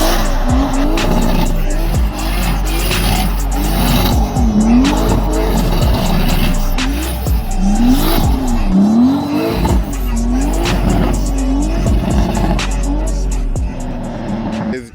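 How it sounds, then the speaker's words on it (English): A car fitted with an Autosports Engineering ZF transmission kit spins a donut, its engine revving hard under a continuous wavering tire squeal for the full stretch, loud and close. "we'll put a clip in here doing a donut"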